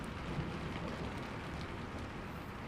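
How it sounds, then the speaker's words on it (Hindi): Heavy rain is a dense, steady broadband hiss with a low rumbling undertone that suggests thunder. It continues throughout and no voices are heard. "धीरे धीरे बारिश बहुत बढ़ जाती है, बादल गरजने लगते हैं और आसमान में बिजली चमकने लगती है।"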